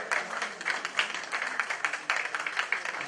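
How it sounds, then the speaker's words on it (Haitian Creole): An audience applauds a performing artist at a televised show, a short burst of scattered, moderately loud clapping that rises and falls in uneven waves. "Mesdames et messieurs, on applaudit l'artiste Alain Sinclair."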